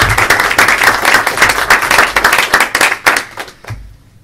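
Applause at a book release panel discussion, a loud close burst of many hands clapping, thick at first, then thinning into scattered separate claps before fading out near the end.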